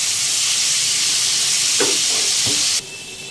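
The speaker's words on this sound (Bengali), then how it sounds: "তেলটা যেহেতু ছেটকাচ্ছে, তাই একটুখানি নুন দিয়ে দিলে এই ছেটকানোটা একটু কমে যাবে।" Loud, steady hissing and sizzling of hot oil with a couple of sharp pops, close by, cutting off abruptly near the end.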